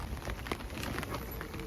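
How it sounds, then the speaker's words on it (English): Heavy rain pours outdoors in a dense, steady hiss of drops spattering on surfaces, continuous and close with no pauses. "It's raining, it's pouring."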